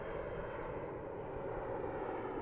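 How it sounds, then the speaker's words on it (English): A jet taking off from runway 4 at Reagan National Airport in Washington, a steady broadband engine roar at moderate distance, even and continuous without any break. "There's one taking off from runway 4."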